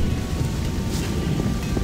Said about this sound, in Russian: Погода испортилась, пошел дождь, все заволокло туманом.